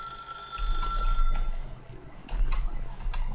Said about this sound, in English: As Stanley picked up the phone